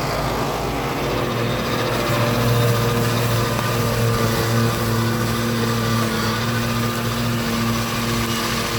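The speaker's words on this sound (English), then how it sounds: "we need the tilt of the mower to get the angle so we can keep the tractor flat" A tractor-mounted tilting mower cuts grass on a sloping bank, giving a loud, steady droning engine hum with a whirring, buzzing cutter tone that holds constant throughout.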